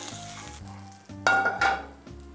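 A tilapia fillet sautés in a hot pan, giving a steady close sizzle that flares into two louder hissing bursts near the end, with no talking.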